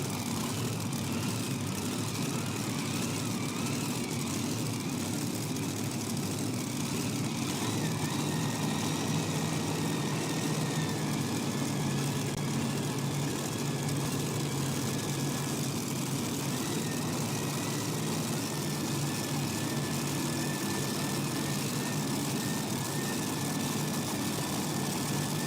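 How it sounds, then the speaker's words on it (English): A super modified pulling tractor idles at a tractor pull event in Benson, NC, a steady, loud engine drone holding throughout with faint crowd and arena ambience in the background. "for our first puller, Super Modified Tractors, Tom Owens"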